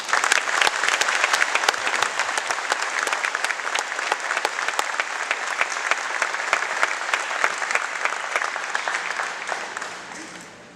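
Sustained applause from a large audience at a Marine Corps graduation at Camp Geiger, North Carolina, a dense wash of clapping for about ten seconds that fades at the end.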